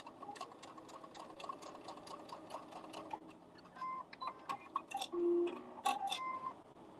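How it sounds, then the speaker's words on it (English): Sewing machine stitching along a marked line, a quiet steady rapid needle chatter with even rhythm, followed by softer scattered clicks, a brief hum and handling sounds as it slows. "I'm stitching on the line."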